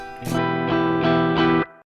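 A clean electric guitar rings out a brief chord, struck a few times in quick succession with bright attacks, sustaining evenly before cutting off, heard close with no voices.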